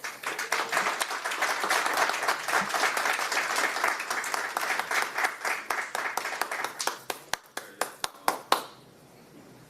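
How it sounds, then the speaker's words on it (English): Audience applause at an Atlanta City Council transportation committee meeting, a dense steady roar of many clapping hands that thins into scattered separate claps and snaps before stopping abruptly. "the celebration, the clapping, the snapping, I'm going to have to ask that you stop"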